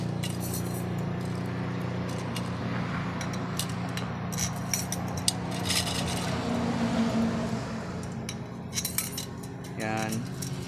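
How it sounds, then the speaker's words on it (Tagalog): Wire spokes are threaded one after another into the empty holes of a bicycle rim during rim building, giving close, repeated light metallic clinks and jangles in irregular bursts over a steady low hum. "Mga bakanting butas, lagyan lang natin ng spoke lahat."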